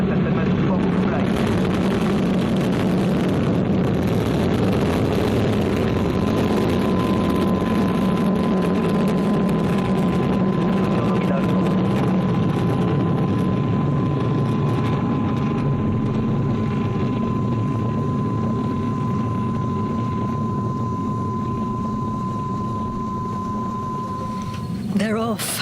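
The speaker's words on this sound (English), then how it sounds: "Sentinel-2C and Vega are blazing a trail across the equatorial skies here over Europe's spaceport in French Guiana" Vega rocket carrying Sentinel-2C lifting off from Europe's spaceport in French Guiana: a loud, sustained broadband roar and rumble that holds steady throughout, with a thin steady tone running through the middle.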